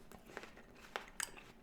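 Someone bites into a crunchy organic Gala apple and chews, giving a few sharp, close crunches spaced irregularly over quiet background.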